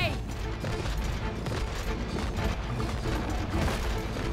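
Steady rapid gunfire in the co-op video game It Takes Two, with rattling mechanical clatter and dense shots continuing throughout at moderate level.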